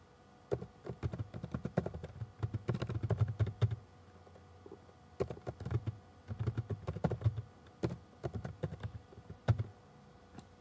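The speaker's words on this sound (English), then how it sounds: "Keep typing and pressing return until you've typed gifts." Close keyboard typing into spreadsheet cells: several rapid bursts of crisp key taps separated by short gaps, steady and fairly loud with no voices.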